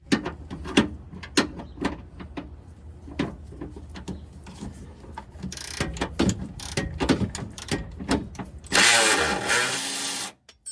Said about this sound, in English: we can get them off with the power wrench